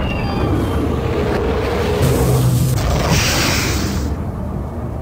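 Deep, rumbling booms from the video game American McGee's Alice, heavy low blasts rolling over a few seconds with a hissing burst, loud and close.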